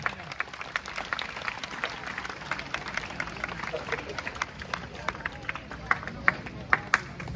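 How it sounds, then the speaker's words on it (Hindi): An audience claps at a parish youth convention after a lamp-lighting ceremony, a steady patter of many hands with sharper individual claps, some voices murmuring beneath. "सब मन ताली मारा"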